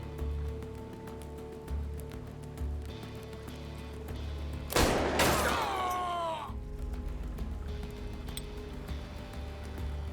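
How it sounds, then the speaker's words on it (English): A ricocheting gunshot in Hard West 2 cracks out midway through a quiet, humming game scene, with a sharp bang followed by a whining, descending ricochet tail, then the low ambience returns. "we have to ricochet shots."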